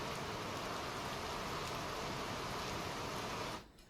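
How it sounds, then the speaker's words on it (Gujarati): Unseasonal summer rain falls steadily in a rural district, a dense even hiss without pauses that cuts off abruptly near the end. "ભર ઉનાળે વરસાદ વરસ્યો છે"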